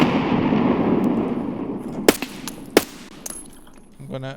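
A video game firefight against a PMC enemy brings a dense roar of rapid gunfire that empties a magazine, followed by a few sharp, loud isolated shots and a brief mechanical rattle at the end.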